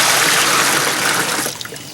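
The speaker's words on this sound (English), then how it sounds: "So I'm going to fill them up with water" Water from a garden hose pours into a big container, a steady close rushing splash that eases slightly in the last moments.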